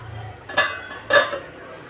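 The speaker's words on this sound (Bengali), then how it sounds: "আর রান্নাঘরে কত বাসন দেখুন, এগুলো সব এখানে মাজবো" Metal pots and dishes clatter in a home kitchen during washing up, two sharp clanking bursts with ringing edges over a quiet background hum.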